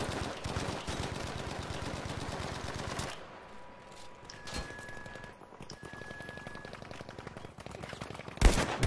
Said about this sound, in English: He's there, he's there!